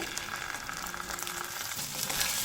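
Ginger paste fries with browned potatoes in a hot pan for a vegetarian pumpkin curry, giving a steady close sizzle and crackle with faint stirring, no talking.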